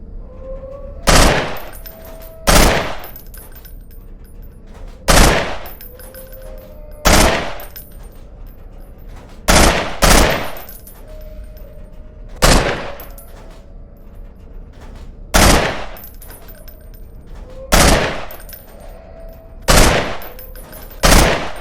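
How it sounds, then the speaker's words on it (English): Bursts of three gunshots from a weapon in the Half-Life 2 Underhell mod, fired at popping-up targets: loud, sharp triplets repeat at steady intervals of about two and a half seconds, each burst ringing out briefly. "This one has bursts of 3 shots."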